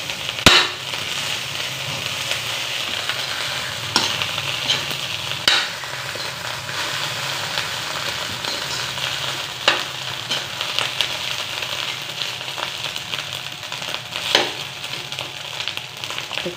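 Egg being stir-fried with garlic fried rice in a pan: a steady soft sizzle runs throughout, broken by occasional sharp scrapes and clacks of the utensil against the pan.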